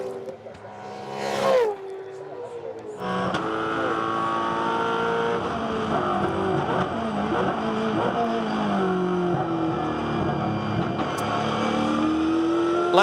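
Multiple V8 Supercars race past at Queensland Raceway in Ipswich during a 2012 championship round, engines screaming and revving loudly and continuously with passing cars and shifting pitch, broadcast commentary murmuring beneath.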